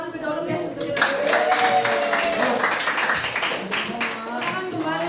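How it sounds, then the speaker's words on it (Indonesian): A classroom of students claps for a group presentation, a dense burst of applause that starts suddenly and continues steadily for several seconds, with some voices mixed in. "Silakan tepuk tangan terlebih dahulu ya"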